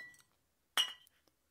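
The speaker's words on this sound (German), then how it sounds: "Du kannst mal wieder mal drauf anstoßen, ne?" Glasses clink together in a toast: one bright, ringing chime followed by a couple of faint lighter taps, in an otherwise quiet room.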